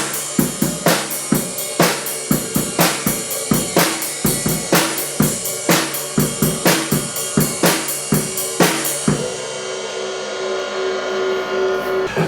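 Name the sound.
drumming in the background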